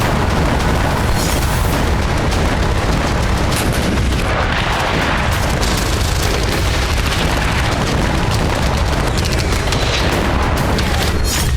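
Russian air strikes pound the Sumy region in war footage, a dense, loud barrage of booms and blasts overlapping continuously into a harsh roar with no clear pauses.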